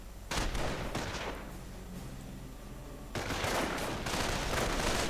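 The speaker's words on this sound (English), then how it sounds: "And getting an MG42." MG42 machine gun fire in a World War II real-time strategy game comes as a loud sustained burst, a pause with distant rattling, then another long rapid burst among other gunfire.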